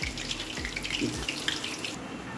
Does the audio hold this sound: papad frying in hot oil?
yes